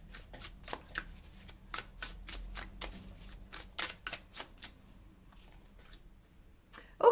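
A deck of tarot cards is shuffled during a reading, a series of soft, crisp riffling slaps in irregular bursts, close and fairly quiet, with no talk.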